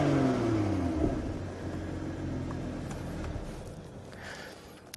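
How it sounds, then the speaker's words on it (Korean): A BMW M240i's exhaust drones and rumbles as the engine revs, a steady low throaty tone that eases off midway, with a faint sharp pop right at the end. "두 번째로 이제 배기 사운드 같은 경우"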